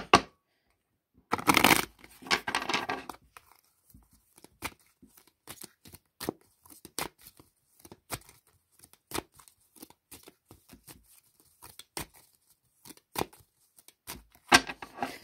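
Tarot cards shuffled close by for a reading make a burst of riffling, then a run of sharp slaps and soft taps as cards are handled and laid down, with quiet gaps between.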